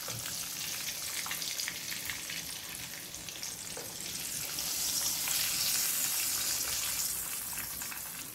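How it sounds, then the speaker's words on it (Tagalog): Loud, continuous sizzling and crackling of drunken shrimp frying in hot oil in a pan, close up with occasional stirring, with no talking. "luto ng ating lasing na hipon. Apaka-crispy mga loads."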